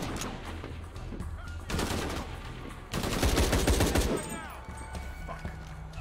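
Gunfire from enemies in Shadow of the Tomb Raider, loud bursts of rapid automatic shots in two main volleys with scattered single cracks, over steady background game ambience.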